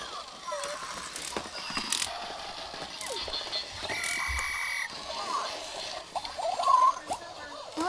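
Small pet rodents run on an exercise wheel in their cage, giving irregular close clicks, rattles and squeaks with brief pauses. Faint voices may be present.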